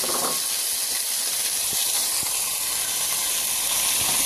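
Marinated shrimp hit a hot pan with a loud, steady, broad sizzle that holds without break, along with a few faint clinks.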